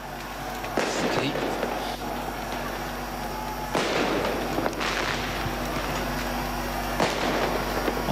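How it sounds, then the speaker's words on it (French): Ceremonial cannon salute shots at a presidential protocol ceremony: about four distant booms at irregular intervals over a constant loud crowd and outdoor din. "On voit les coups de canon qui sont en train d'être tirés."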